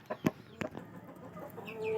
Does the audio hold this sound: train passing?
no